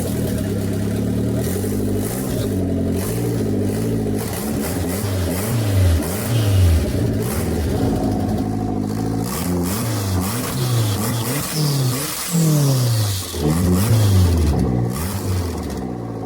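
A small turbocharged car engine starts for the first time and revs repeatedly, rising and falling in pitch over a steady running note, close and loud throughout.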